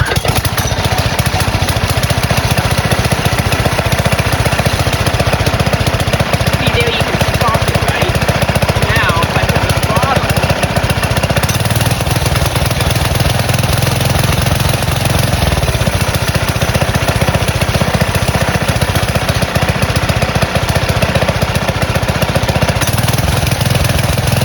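A go-kart's small engine roars loudly and steadily at close range, with a dense buzzing rattle that barely changes over about 25 seconds.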